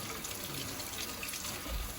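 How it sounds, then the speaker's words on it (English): Hot water poured around the outside of a frozen ice cup, a steady low splashing, trickling flow that runs unbroken for about two seconds with a slight swell near the end. "You're just gonna put some hot water around here to help separate the bottom."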